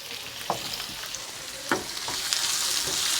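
Green chilies, curry leaves, ginger and garlic sizzle in hot oil for a vegetable soya biryani, a steady close hiss broken by a few sharp crackles and pops.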